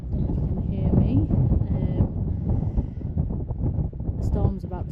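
Gusty wind buffets the microphone in a steady low roar, with a person talking over it throughout.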